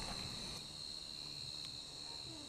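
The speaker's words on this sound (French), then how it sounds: "Et vous entendez là, le bruit? C'est les cigales de Marseille." A continuous high, buzzing drone of cicadas carries on steadily and evenly throughout, fairly faint, with no voices, in Marseille.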